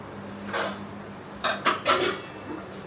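A clay chatti cooking pot is handled in a home kitchen, giving a few close, hollow clunks and knocks in quick succession after a quieter rustle, with no one talking.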